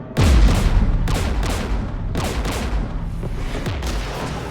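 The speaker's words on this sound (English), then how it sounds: "We're taking fire." Heavy gunfire and booming blasts from a Mass Effect 3 battle against Geth forces near a jamming tower, a loud opening impact followed by repeated shots and bursts throughout.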